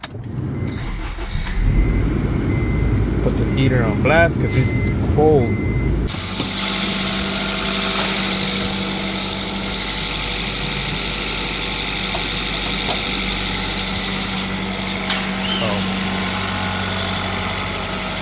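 A car engine turns over and settles into a steady idle up close, with someone speaking briefly over the rumble.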